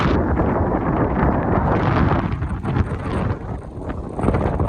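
Strong wind buffets a microphone outdoors in a hillside clough, a loud, close, rumbling roar that stays constant and gusty throughout with no voices.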